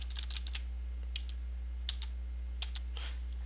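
Typing on a computer keyboard while filling in a login form, several quick bursts of light clicking keystrokes spaced apart over a steady low hum, no speech.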